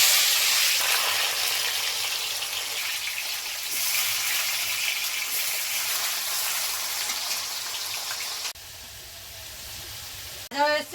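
Potatoes fry in hot oil in a kadai with a loud, steady broadband sizzle that runs for several seconds, then drops to a quieter hiss near the end, capped by a brief sharp burst.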